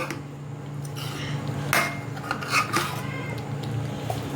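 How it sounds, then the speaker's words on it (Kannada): A spoon scraping and knocking against a pan while palak paneer is stirred and mixed, giving a few irregular clinks and rubbing scrapes over a steady low kitchen hum, close and moderately loud, with no talk. "2 ನಿಮಿಷ ಈ ಥರ ನೀವು ಹಿಂಗೆ ಮಿಕ್ಸ್ ಮಾಡಿಕೊಂಡು"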